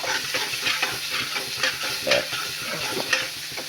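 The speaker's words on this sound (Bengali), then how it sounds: "এটা লাল করে ভাজা হোক" Soaked cumin, turmeric and Kashmiri chilli paste fries loudly in a pan, a dense close sizzle with rhythmic stirring scrapes throughout and no voices.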